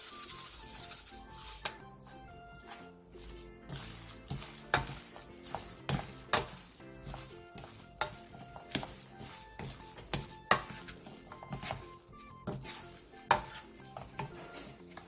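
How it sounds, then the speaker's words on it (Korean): Japchae is tossed with sesame oil, chives and sesame seeds after the heat is off, giving soft stirring and scraping strokes against the pan in an irregular rhythm, with light clinks and a faint sizzle underneath. "불을 끈 뒤 참기름 1스푼, 부추, 통깨를 넣고 가볍게 뒤적여 마무리해주세요"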